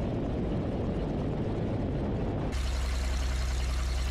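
A tailwheel light aircraft rolls along the runway after a three-point landing, its propeller engine droning steadily at low power, then abruptly shifting to a deeper, smoother hum partway through.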